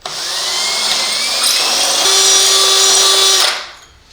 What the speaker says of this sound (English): we will have to drill out some more to expose the plate.